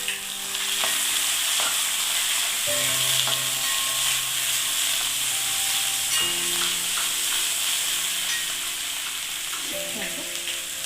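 Curry leaves and kanthari chillies fry in a pan for a green chilli pickle, producing a loud, continuous hissing sizzle over a low steady hum, with occasional stirring scrapes throughout.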